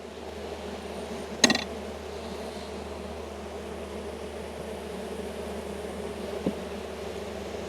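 Honey bees hum around their hives in a low, steady drone that holds for several seconds, with a sharp click early on and a fainter one near the end, and no voices.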